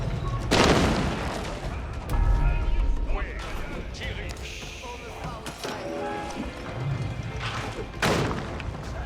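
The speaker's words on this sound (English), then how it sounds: "Now got a green trebuchet firing away" A green trebuchet fires in an Age of Empires 4 match, giving a few heavy, booming thuds spaced several seconds apart amid a dense clutter of battle and unit noise.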